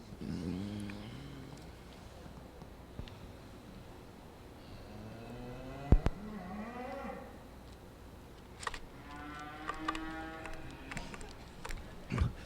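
Limousin heifers mooing in a cattle show ring, several drawn-out low moos at moderate distance over a murmuring hall, with occasional knocks and clanks.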